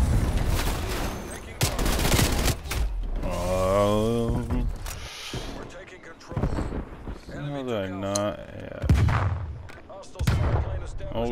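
C4 charges detonate in a shooter game, with heavy booming blasts and scattered gunfire mixed through the scene while someone talks intermittently over the action.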